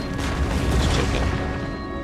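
Artillery and musket fire from a Total War Empire battle as Russians, a dense continuous rumble of booms and crackling shots, loud and low-heavy with no distinct gaps.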